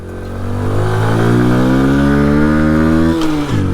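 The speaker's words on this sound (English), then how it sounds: "You need to just really rev some of these bikes out, get the fuel running through them" A 1997 Honda C50 (Chaly 50) small motorcycle engine revs steadily and loudly up to a sustained high pitch for several seconds, then drops off sharply near the end, with no talking.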